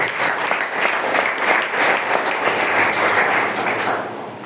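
A church congregation claps together during a sermon, a dense, steady wash of many hands sustained throughout and tapering slightly at the end.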